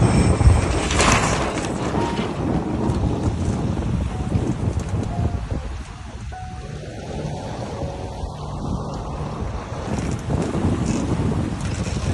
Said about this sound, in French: le vent forcit et passe arrière. La mer se creuse